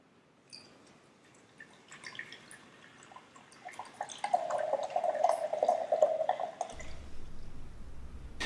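Sparkling water heavy with carbonic acid poured from a freshly opened full bottle into a glass, a soft trickle that swells into fizzing and splashing and then settles, fairly quiet and close.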